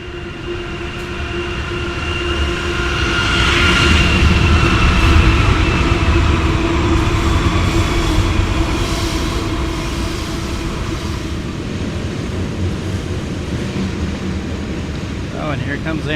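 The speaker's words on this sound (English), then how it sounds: "Oh, and here comes Amtrak. The Chief." The Amtrak Southwest Chief passenger train passes near Kansas City. A loud, sustained rumble of rolling cars builds and stays steady for about sixteen seconds, with a distant horn tone near the start.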